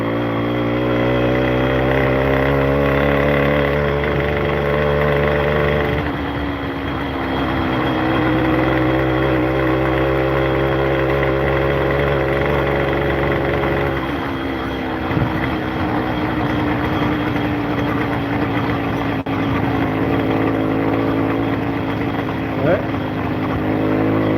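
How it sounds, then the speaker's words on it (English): A motorcycle engine idles steadily in a low, even drone that shifts slightly in pitch, close and prominent, with someone talking over it. "Let the engine cool down for a bit."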